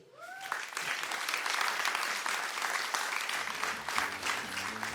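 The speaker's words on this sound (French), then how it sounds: "chance d'avoir avec nous Gilbert Réveillon, si vous voulez bien l'applaudir" A festival audience at a grand opening event breaks into applause, a dense crowd of clapping that swells quickly and holds steady, with brief tones at the start and low musical notes entering near the end.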